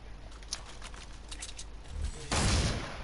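Gunfire from a weapon in a video game crackles in a quick rapid burst that swells into a louder, denser volley near the end, with no talking.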